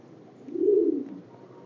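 A single soft pigeon coo, a low rounded call rising and falling over about a second, close by and alone in a quiet setting.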